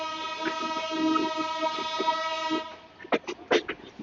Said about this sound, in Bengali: আমাদের লোগো পাইলট লম্বা একটি হর্ন দিয়ে জানান দিল কপোতক্ষ এক্সপ্রেস চলে এসেছে রাজশাহীর প্ল্যাটফর্মে